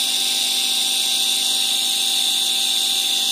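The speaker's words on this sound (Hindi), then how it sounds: "मोटर फुल आरपीएम पर आप देख सकते हैं" Electric bike hub motor driven by a speed controller at full RPM, giving a steady high-pitched whine with a sharp tonal hum that holds constant and close, with no speech.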